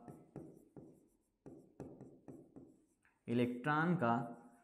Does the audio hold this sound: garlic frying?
no